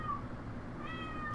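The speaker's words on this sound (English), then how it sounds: "if y'all hear meowing right now, that is my cat. She's meowing at me because I am not in bed yet." Domestic cat giving a couple of short, fairly clear meows indoors over a low background hum.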